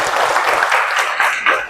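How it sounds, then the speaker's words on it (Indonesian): Classmates in a teacher-training college classroom clap together for their peers, a short, fairly close round of brisk clapping with a few louder bursts near the end. "Tepuk tangan untuk teman-teman."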